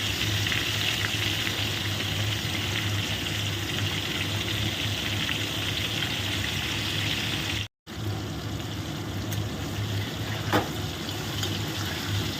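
Fish frying in very hot oil, a steady dense sizzle and crackle running continuously, cut by one brief dropout midway, with a few small pops near the end.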